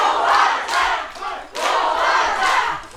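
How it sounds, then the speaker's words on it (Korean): An outdoor crowd at a night autumn-foliage festival show lets out repeated bursts of shouting and cheering in rising waves, loud and close, with clapping mixed in. "그러면 박수하고 함성부터 줘야 돼"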